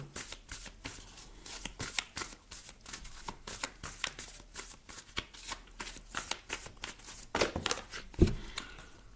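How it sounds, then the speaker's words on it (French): A deck of oracle cards is shuffled and drawn in a long run of dense, rapid riffling flicks that continue steadily throughout. It ends with a couple of sharper slaps as cards are pulled and set down, all at close range with no talking. "On va aller chercher une carte oracle pour connaître un petit peu la tendance et le conseil."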